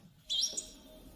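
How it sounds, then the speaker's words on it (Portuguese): A morning bird in a lush forest with gentle streams gives a single short, high chirp, clear and fairly close, over a quiet background. "o canto matinal dos pássaros pode ser ouvido perfurando o ar da manhã"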